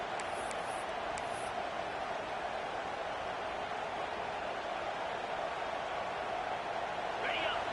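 Steady roar of a football stadium crowd during a first-and-goal play, a dense continuous wash of noise with no breaks, a few faint whistles near the start.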